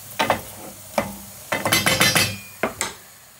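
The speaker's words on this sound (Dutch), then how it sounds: "Oké, dit ga ik 8 minuten bakken." An onion frying in a pan in a home kitchen, heard as a run of short clattering, scraping stir strokes against the pan over a faint sizzle, with bursts clustered near the middle and end.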